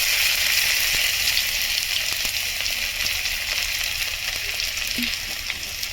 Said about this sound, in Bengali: সবগুলো ভালো করে ভেজে নেব